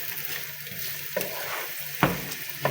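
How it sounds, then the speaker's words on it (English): Onion sautés in a hot pan for a chicken capers recipe, giving a steady close sizzle broken by a couple of sharp stirring scrapes against the pan. "still we making saute our onion"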